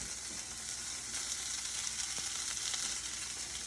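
Onion, garlic and canned white beans sizzle in a hot pan, a steady bright hiss of frying with occasional small pops and stirring sounds, close and continuous without speech.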